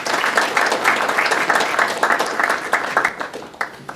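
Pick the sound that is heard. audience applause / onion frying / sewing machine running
audience applause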